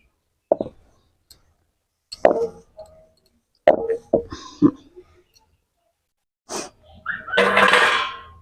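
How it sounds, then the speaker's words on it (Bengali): Water is poured from a cooking vessel into a pot in a home kitchen while spinach chicken is made. Several separate plops and splashes come first, then a longer, fuller gush of pouring near the end. "এবার জলটাকে আমি একটি পাত্রে ঢেলে নেব"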